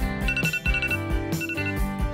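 An alarm clock rings in quick repeated electronic bursts, loud and close, a bright jangling tone pattern with no voices.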